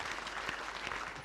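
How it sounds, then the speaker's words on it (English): An audience at an anniversary ceremony claps in a brief, steady round of applause, the dense patter of many hands filling the hall throughout. "Let's give him another round of applause."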